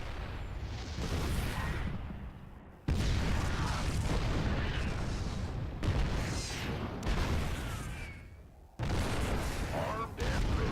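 StarCraft 2 siege tanks fire heavy booming shots at Protoss cannons, several loud blasts with rumbling tails overlapping game noise, and speech can be heard throughout.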